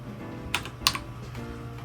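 Two separate taps on a small budget computer's keyboard, sharp close clicks about a third of a second apart over a steady electronic hum, with no talking.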